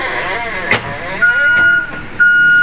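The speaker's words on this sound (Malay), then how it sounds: "Jadi sekarang ini kita akan start ni kereta." A Proton Saga FLX with an alternator fuse that keeps blowing and a battery that keeps needing replacement starts up; its engine hums steadily and close by, with a few short electronic beeps over it.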